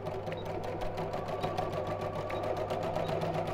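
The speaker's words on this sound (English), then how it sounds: "I'm just going to sew the ends together" A sewing machine stitches the ends of elastic together at a steady close-up hum with a rapid, even needle rhythm, running continuously with no talk.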